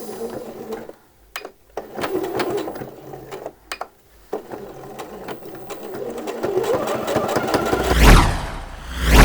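A sewing machine top-stitches fabric on drawstring shorts in short bursts of whirring broken by pauses, then settles into a longer run that speeds up near the end, heard close with no voices.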